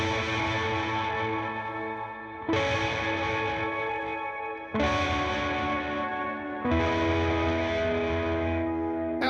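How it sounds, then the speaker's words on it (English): Electric guitar played through a long, wet reverb feeding a distortion pedal, sustained harmonically rich chords swelling in three or four loud distorted washes, with no talking. "Let's distort that reverb."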